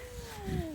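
A single drawn-out cat meow with a slowly falling pitch, close by and fairly loud, under a faint background rumble.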